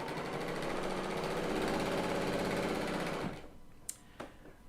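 A Bernina L890 sewing machine with a metal foot runs fast through a thick quilt sandwich of layers and batting, a steady close mechanical whirring that stops after about three seconds, followed by a couple of light clicks.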